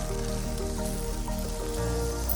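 Rain falls steadily in the parking area of a tea museum among tea estates in Munnar, Kerala, a close, dense patter without pause and no voices.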